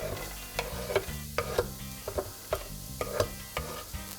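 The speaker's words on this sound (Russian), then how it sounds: "Пока пассируется лук" Onions sizzle softly in oil in a pan while a utensil scrapes and stirs in repeated strokes, close and fairly quiet.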